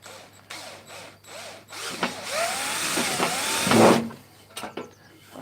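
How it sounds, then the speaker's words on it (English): A power drill whirs loudly through a hole for a couple of seconds, its pitch shifting as it bites, framed by quieter clicks and handling noises. "I can hear it actually as I drill it"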